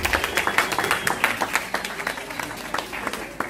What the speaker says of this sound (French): Donc, on les applaudit.